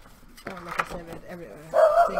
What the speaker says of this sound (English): I'm so sorry for that barking.